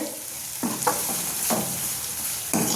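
Corn and capsicum, with spice powder and salt, get stirred in a hot pan for a lunch-box rice dish. Several distinct scraping strokes sound over a steady close sizzle, with no talk.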